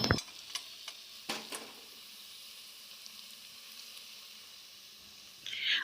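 Onions and tomatoes for a mutton curry sizzle softly in a pan, with a few scraping stirs and utensil clacks at the start and a louder stir at the end.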